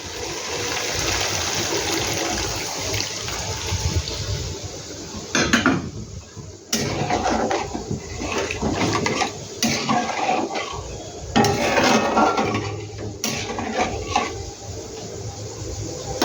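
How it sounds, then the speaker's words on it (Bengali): Water poured into a pan of fried, well-cooked spices for a Bengali stuffed potato dish with lentil filling, a continuous sizzling, splashing rush with clinks of utensils against the pan, steady and close throughout. "এবার আমি জল দিয়ে দিই।"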